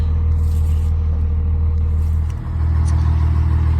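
A black 1996 truck drives along a road, its engine giving a loud steady low drone from inside the cab with a brief dip partway through, no talking.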